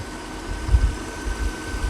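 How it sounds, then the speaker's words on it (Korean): A Mercedes S550L V8 engine idles with the hood open, a steady low rumble under a faint fan-like hum, close and fairly quiet with slight pulses in the low end. "지금 엔진 소리가 8기통 엔진인데"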